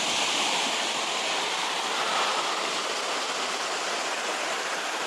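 Hilton Falls in Canada roars as a loud, constant broadband rush of falling water, steady and unbroken throughout, with no voices.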